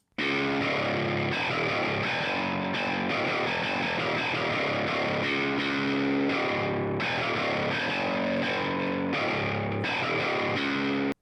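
Bass guitar played through the Blackstar St James plugin with distortion, a thick, heavily overdriven tone sustaining steadily throughout with brief gaps between chord hits, loud and alone.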